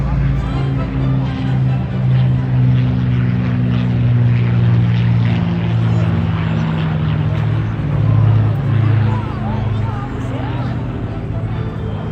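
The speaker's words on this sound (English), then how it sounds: "So we're going to watch the Lancaster. It just bends its way around the headland there." An Avro Lancaster bomber flies at the Folkestone Air Display, its propeller engines giving a loud, continuous droning roar that rises and falls slightly as it passes the headland.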